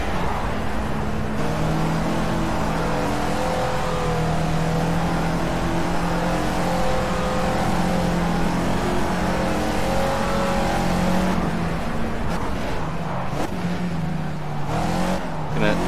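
Caterham Super Seven race car engine in the racing game Project CARS at Snetterton, a loud continuous revving drone rising and falling with gear changes throughout.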